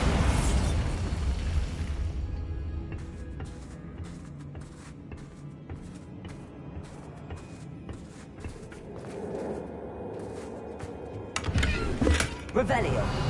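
Bombarda spell explosion in the game Hogwarts Legacy: a loud burst at the start fading into quieter crackling debris and small impacts, then another booming blast near the end, with a voice briefly present.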